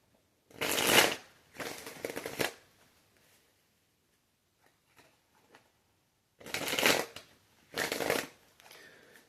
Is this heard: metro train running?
no